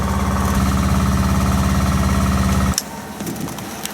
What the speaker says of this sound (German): Und entsprechend sind wir jetzt hier wieder mit dem Motor unterwegs.